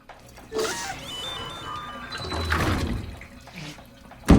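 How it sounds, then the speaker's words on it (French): Shower water runs in the video game Death Stranding, a steady spray with shifting splashing and a few tonal electronic notes, fairly close, ending in a louder thump. "J'en déduis donc que vous étiez sous la douche"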